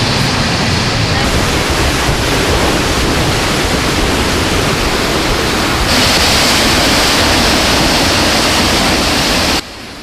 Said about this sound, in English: the deafening noise of the falls